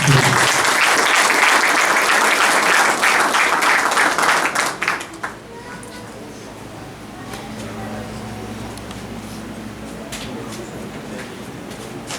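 A graduation ceremony audience applauds the valedictorian, loud dense clapping for about five seconds before it drops away to a quieter room with faint scattered sounds.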